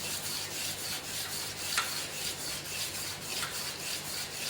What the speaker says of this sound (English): The first step of polishing using the emery sheet,